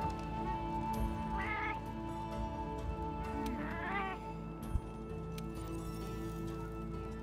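A Palico cat companion in Monster Hunter World gives two short rising meows a couple of seconds apart over a steady game ambience.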